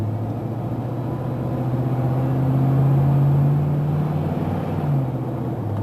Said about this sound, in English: Push the gas pedal to about a quarter throttle. Feel the 1-2